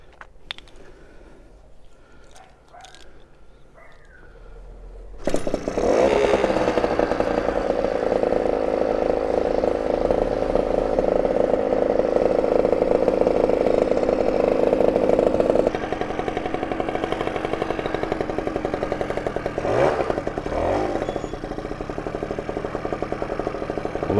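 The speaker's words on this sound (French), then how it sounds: "Bon, on va tenter un démarrage à froid sans starter vu qu'elle dort dans l'atelier." A Motobécane AV76 moped is cold-started inside a workshop, its small two-stroke engine catching abruptly after a few quiet seconds, then running with a buzzy, steady idle that dips slightly partway through.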